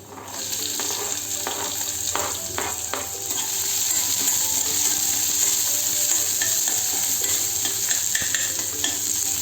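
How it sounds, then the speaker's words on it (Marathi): Onion frying in hot oil with garlic for dal tadka, a steady sizzle throughout with a spoon scraping and stirring the pan in occasional clinks and strokes, close and continuous. "कांद्याला आपल्याला चांगला पिवळसर रंग येईपर्यंत परतून घ्यायचा आहे."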